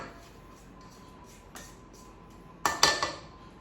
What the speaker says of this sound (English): It's always super important to get a rubber spoon or spatula and scrape down the sides.